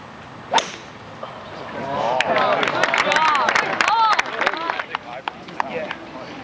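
A sharp club strike on a 3-wood tee shot at a women's amateur golf championship is followed by a swell of crowd applause and cheering that fades off. A commentator talks over it.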